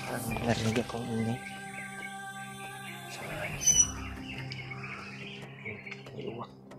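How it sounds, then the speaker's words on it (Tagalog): Crows call in the distance, a few scattered caws and squawks over a quiet outdoor background with faint rustling. "May mga uwak sa unahan."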